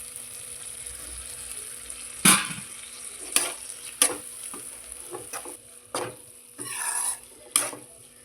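Fried bombil (Bombay duck) added to a pan of spiced masala, with soft sizzling under a series of sharp scrapes and clatters of a spoon stirring against the pan, loud bursts then quieter frying.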